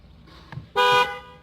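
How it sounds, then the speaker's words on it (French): A single short horn honk from a Peugeot 406 coupé HDi 2.2, loud and close, preceded by faint rustling. "Le klaxon. Désolé pour le bruit."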